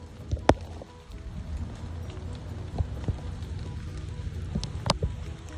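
Rain falling on a wet hammock outdoors, a soft continuous patter with scattered sharper drops and taps, steady and moderately close, with no talking.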